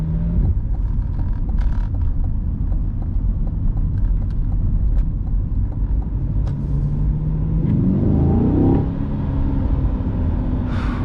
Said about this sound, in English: The way the exhaust just opens up as you get on it